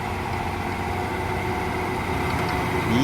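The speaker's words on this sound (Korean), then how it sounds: "지금 보이시는 장비는 어, 존디어 트랙터" A John Deere 230 hp tractor engine runs steadily at a low, heavy idle in a farm field prepared for corn planting, loud and close with a constant rumble and no talk.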